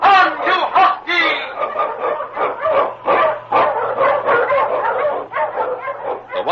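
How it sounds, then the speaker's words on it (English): Husky sled dogs bark and yip continuously and loudly in a vintage radio adventure set on the snowy Yukon trail, dense overlapping yelps filling the whole stretch with a low steady hum beneath. "On King! On you husky!"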